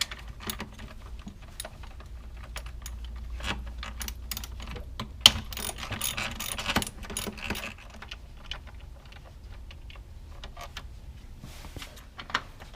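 A ratchet backs out a 10mm bolt on a throttle body cover with a long run of quick, light, close clicking bursts, quiet and steady with brief pauses between strokes.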